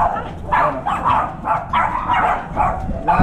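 Several American Bully dogs bark excitedly in quick, irregular bursts at moderate distance, overlapping one another, with no voices among them.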